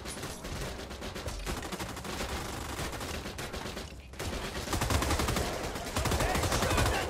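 Gunfire fills a World War 2 shooter game, the PC title RAID: World War 2, with dense, sustained automatic bursts and overlapping shots that grow louder toward the end. A voice speaks briefly amid the shooting.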